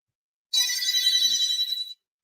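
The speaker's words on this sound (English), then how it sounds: "I'm sorry, my phone rang." A mobile phone rings with a bright electronic ringtone that starts abruptly and plays for about a second and a half, then cuts off into silence.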